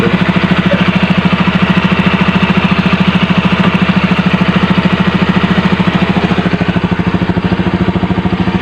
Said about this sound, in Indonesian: walaupun sudah lama nggak dipakai, namun tetap bisa hidup dengan normal